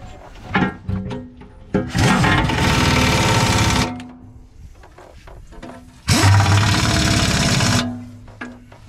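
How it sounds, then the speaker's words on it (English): Impact wrench tightening a bolt during repairs, giving two loud sustained whirring, hammering bursts of about two seconds each, close up, separated by a pause with light clanks. "hand me the impact. I'll tighten this one up"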